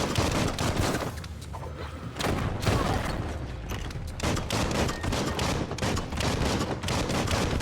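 Gunfire in the video game Biomutant: rapid, dense bursts of shots crackle loudly and almost continuously, with brief pauses between volleys and booming impacts mixed in.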